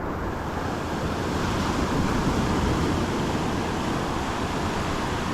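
Ocean waves on a warm Tasmanian beach roll in as a steady, continuous surf roar, loud and close, with wind noise buffeting the microphone and no voices.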